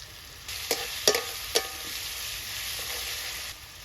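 Chopped green chillies sizzling in a pan over a home stove fire, with a steady broad hiss and a few sharp spatula scrapes and clinks near the start, fairly quiet and without talk.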